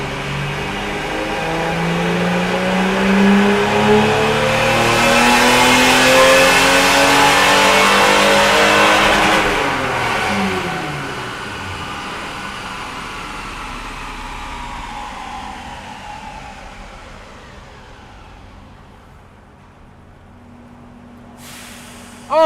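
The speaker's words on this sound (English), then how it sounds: "we'll start the dyno, floor it, take it all the way up to red line, and then clutch in" A car engine running a RusEFI setup on a dyno is floored up to redline, its loud rising rev sweeping upward, then the clutch goes in and the engine drops back toward idle, with a sharp noise at the very end.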